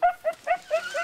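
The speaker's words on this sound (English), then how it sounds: "And when you hear that howl, you know they're on the trail of one." Beagles giving tongue while chasing rabbits inside a fenced rabbit-running enclosure, a quick string of five or six short, yelping bays close by, with no talk.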